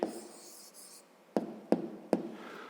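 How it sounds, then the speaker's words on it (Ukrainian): A hand writes out an answer to a school maths exercise: a soft scratchy stroke, then three distinct sharp taps or strokes in quick succession, close and quiet, with no talk. "Ну, а тепер записуємо відповідь. Пишемо відповідь."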